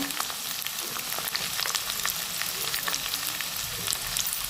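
Peas, chopped chili and cashews fry in a hot pan for upma, giving a steady, fairly loud crackling sizzle with scattered sharp pops and faint stirring scrapes throughout, no voices over it.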